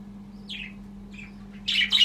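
Cockatiels and budgerigars in an aviary give a few scattered squawks and chirps, ending in two louder close calls, over a steady low electrical hum.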